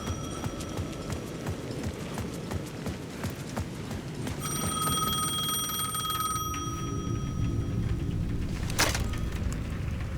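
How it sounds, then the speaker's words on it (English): A payphone rings at the edge of a city plaza in the Alan Wake 2 video game, steady electronic ring tones repeating alone over a dense low ambient rumble, with a louder burst near the end. "The payphone at the edge of the plaza was ringing again."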